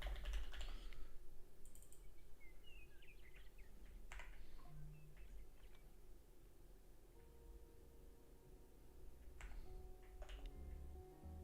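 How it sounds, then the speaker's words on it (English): Steady typing on a Fuji 65 mechanical computer keyboard, close and fairly quiet, with a continuous run of small key clicks and occasional louder taps, no speech. "What are you typing on?"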